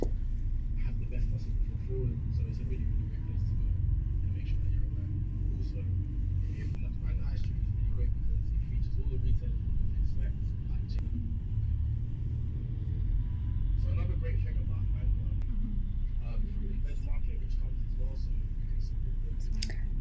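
Bus driving through a university campus in Bangor, a steady low engine rumble and road noise continuing throughout with faint voices murmuring inside the vehicle.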